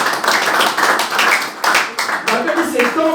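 Church congregation clapping and cheering during a French-language sermon, a dense burst of hand claps filling the room with voices mixed in, rising and falling in waves.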